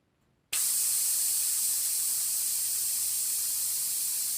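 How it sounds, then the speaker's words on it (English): Air from a bicycle tire with a press-type valve rushes out in a loud, steady hiss that starts abruptly after a brief quiet moment and continues unbroken to the end. "And I'm just going to let this air out."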